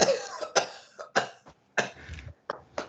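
A person clears their throat several times in quick, raspy bursts, fairly quiet and close, with short pauses between each harsh hack and no talking.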